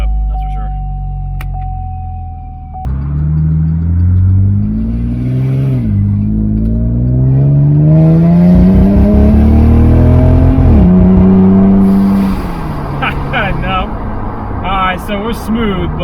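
A supercharged V6 Cadillac engine starts up and then revs and accelerates, pitch rising through several gear changes, loud and close as if heard from inside.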